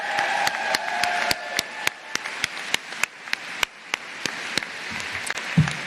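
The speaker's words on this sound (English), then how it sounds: "let's give another round of applause for Ananya." Audience applause at a professional commencement ceremony, a steady crowd clapping throughout with sharp individual claps standing out near the microphone, fading slightly toward the end.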